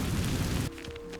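An Incendio fire spell is cast in Hogwarts Legacy, giving a short, loud roaring burst that cuts off abruptly into a quieter tail.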